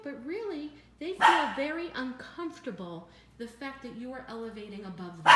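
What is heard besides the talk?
dogs barking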